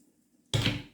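Water poured into a glass while preparing a homemade cleaning product, a sudden close splashing rush that starts midway after quiet and then slowly tapers off.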